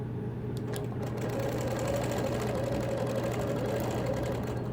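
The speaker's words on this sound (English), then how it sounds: "I'll be adding background quilting of stippling with swirls to kind of break up all those large areas." Sewing machine doing free-motion stippling and swirl background quilting, a continuous fast, even needle hum with a steady motor drone, close and alone throughout.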